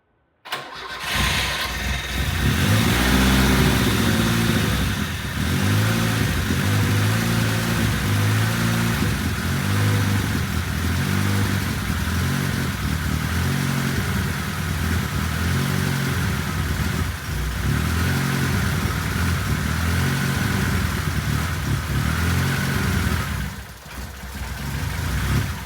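A Lada Niva engine, parked for 11 years, cranks and catches, then runs loud and steady near the microphone with a rough mid-range idle and slight revving before briefly dipping near the end.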